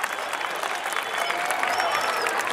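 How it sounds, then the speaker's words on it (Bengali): An audience at a Netaji Subhash Chandra Bose birth anniversary event bursts into steady, full applause, a dense wash of clapping throughout. "সবাইকে হাততালি দিয়ে অভিনন্দন জানানোর জন্য অনুরোধ করা হচ্ছে"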